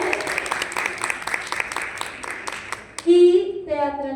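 Crowd applause fills the first three seconds, then fades as a voice begins speaking over the room.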